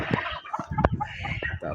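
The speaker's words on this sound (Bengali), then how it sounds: "তারপরে দেখেন মুরগি আছে অনেক।" Chickens on a small farm give short, close clucks in quick, uneven bursts, mixed with faint background noise.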